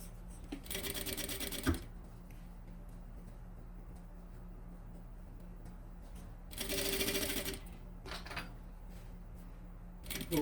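Sewing machine stitching the lining of a luxury toiletry bag near the corner seam, with two short bright bursts of stitching over a steady low motor hum and quiet handling between them.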